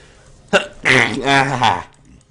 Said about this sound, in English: Apologies for the sneeze.